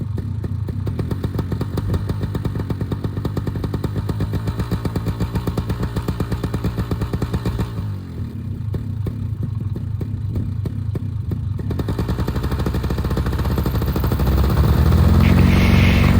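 A Vittorazi EFI paramotor engine being broken in runs steadily and close for a long stretch, buzzing with a rough clatter, briefly dipping before revving louder near the end.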